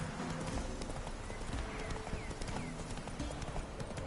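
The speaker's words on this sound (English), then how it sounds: "This is a horse, not a bus." Horse hooves clip-clop steadily along a road in The Witcher 3 video game, a continuous rhythmic trot at close range with ambient game sound and no talking.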